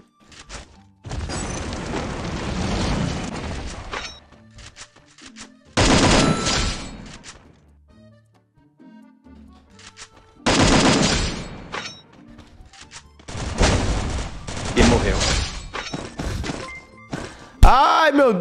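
Weapon fire in the Free Fire video game comes in several long, loud bursts of rapid automatic shots separated by short pauses, with a voice talking between and over the volleys.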